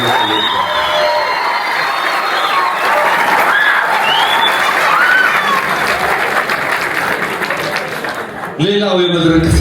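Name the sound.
audience applause in a theatre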